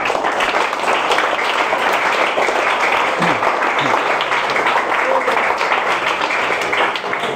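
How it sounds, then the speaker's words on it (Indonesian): An audience at an Islamic study lecture on fiqh of puberty claps for the children, a steady wash of many hands from start to finish, fairly loud, with faint voices mixed in. "Tepuk tangan buat kalian semuanya."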